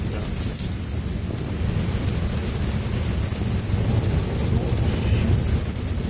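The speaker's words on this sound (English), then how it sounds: "You're gonna get like 3-4 inches of rain." A Minneapolis thunderstorm brings steady heavy rain, a dense continuous roar with low rumbling thunder underneath, close and loud throughout.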